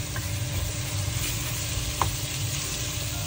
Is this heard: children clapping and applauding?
no